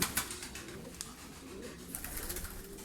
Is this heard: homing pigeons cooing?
yes